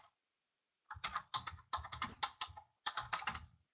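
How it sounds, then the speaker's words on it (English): Someone types on a computer keyboard in a quiet room, sounding as quick bursts of crisp key clicks in three clusters after a brief silence, close and clear, with no talking. "I thought somebody's typing."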